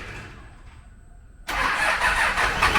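An engine cranks with a quieter whir, then catches abruptly and roars into a loud, steady running idle close by, with no voices over it.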